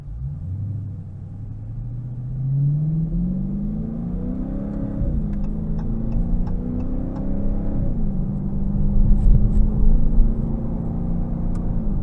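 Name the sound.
2022 Dodge Challenger R/T Scat Pack 392 engine driving in sport mode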